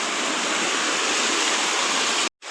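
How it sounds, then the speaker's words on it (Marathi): A large stream rushes and churns at night during heavy rain, a dense, loud, constant hiss of flowing water close by that briefly drops out near the end. "हा मोठा ओढा आहे."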